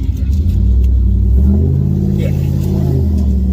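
A Whipple-supercharged Ram truck engine pulls hard through a quarter-mile drag run, a loud, steady low rumble with rising revs that holds near and continuous for the whole stretch.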